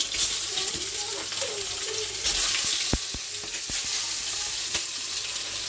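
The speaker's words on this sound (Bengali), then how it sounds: "আমি এক এক করে ডিমগুলো ভেজে নেব" Sliced eggs fry one by one in a pan, giving a constant bright sizzle close up, punctuated by a few sharp clicks and taps of utensils.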